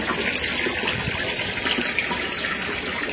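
Steady, loud gushing water flow from a new submersible pump in a koi pond, continuous throughout with no talking.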